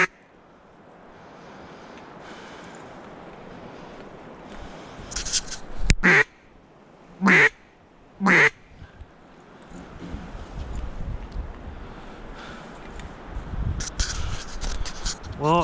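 Ducks quack overhead as a flock passes after a cold front, three loud bursts of calls standing out over a soft outdoor wind hiss, with rustling noise building toward the end.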